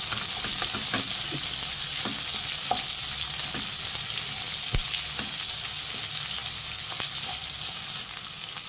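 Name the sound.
onions frying with salt in a pan for masala dosa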